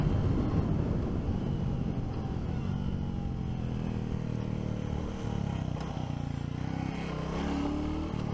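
A 2023 Royal Enfield Classic 350 Dark Stealth motorcycle rides along with a steady engine drone, its pitch rising and falling as gears are shifted, heard close and continuous.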